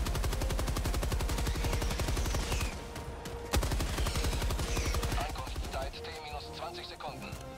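Machine gun fire in the video game Helldivers 2: two long, loud, rapid-fire bursts separated by a short pause, followed by scattered game sounds and chatter-like noise.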